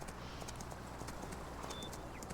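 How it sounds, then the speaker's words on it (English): A horse gallops in Farming Simulator 19, its hooves making a quick, steady clip-clop rhythm that continues throughout at a faint, even level. "So let's kick him up into a run. Or a gallop."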